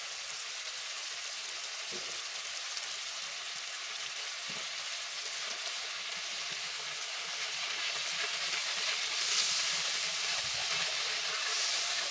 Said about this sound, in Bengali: এটা একটু ফুটতে দিব, কষিয়ে নিতে ভালো করে।